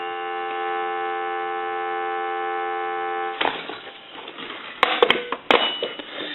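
A steady payphone dial tone hums for about three seconds, then cuts off into handset handling noise with a few sharp clicks and knocks.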